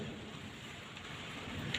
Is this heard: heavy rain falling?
yes